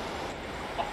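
A Minecraft chicken gives a short, soft cluck or two at the end of a brief stretch of quiet ambient game sound.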